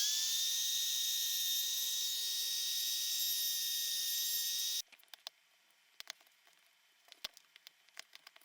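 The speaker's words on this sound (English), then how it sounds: "I'm going to take my trim router and a spiral router bit, and I'll just come in here and kind of clean this up a little bit with that." A trim router fitted with a spiral bit whines loud and steady at high pitch for about five seconds while trimming wood on a built-in, then cuts off, leaving scattered light clicks and taps.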